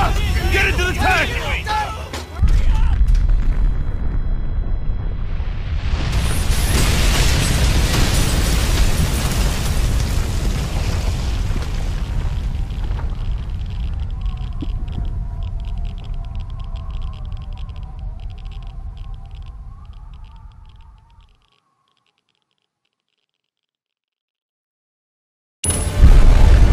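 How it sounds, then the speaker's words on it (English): Tactical nuke explosions in the video game Frontlines: Fuel of War, a loud roaring blast that swells and rumbles for many seconds, then fades to silence before another burst starts abruptly at the end; voices shout over the opening. "Tactical nukes, God damn it!"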